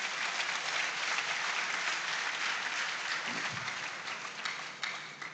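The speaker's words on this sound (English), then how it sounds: "let's clap for them" An audience at a school farm awards grand final applauds steadily, a dense, even wash of clapping that keeps up for the whole stretch and thins slightly at the very end.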